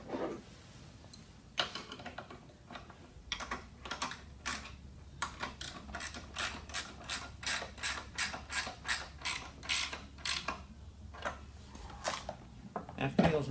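A T-REX EZ Slotter, a post and beam tool, is tightened onto its bar with a run of rapid, evenly spaced ratcheting clicks that speed up and then stop, with quiet handling noise around them.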